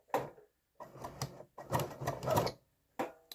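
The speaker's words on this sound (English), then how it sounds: "I'll go ahead and try and sew." A Bernina 880 sewing machine with a fault stitches in short whirring bursts separated by brief pauses, close and fairly loud, with no talk over it.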